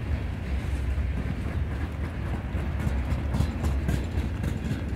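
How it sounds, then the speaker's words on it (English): A short Norfolk Southern H01 freight train with a heavy load rolls along the rail line, giving a steady, continuous low rumble and wheel noise that holds level throughout with no voices. "Yeah, like I said, not a long train at all."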